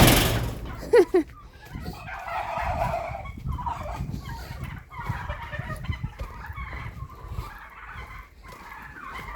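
A farmyard turkey gives a short gobbling burst early on, followed by scattered fowl clucks and scuffling while people talk and shout nearby.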